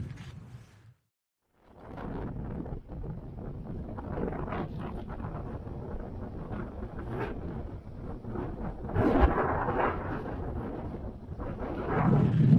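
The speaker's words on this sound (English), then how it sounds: "So it is definitely a windy day today." Strong wind buffets the microphone in a steady roar, briefly dropping out before gusting back louder, with no voices, on a windy day by the ocean near Mile Zero of the Trans-Canada Highway in Victoria, BC.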